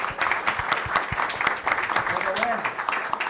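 Applause for engineering students from UERJ at a magazine launch event: steady clapping from a seated audience, crisp and continuous throughout, with a faint voice partly under it.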